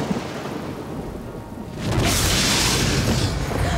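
A deep rumble of thunder from a lightning strike on a farm swells in after a quieter stretch, with a broad, roaring wash of sound and possible rain hiss underneath.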